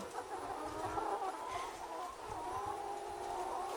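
Chickens cluck softly and continuously in the background, a faint murmuring flock with overlapping low calls.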